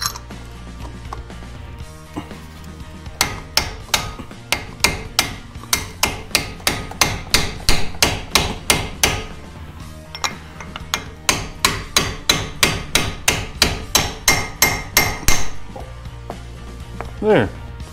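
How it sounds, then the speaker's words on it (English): A socket is used as a makeshift driver to beat a new dust cap onto a vehicle hub, making a long run of sharp, evenly spaced metallic taps in two steady series with a short pause between them. "I'm actually going to use my socket to beat my dust cap on."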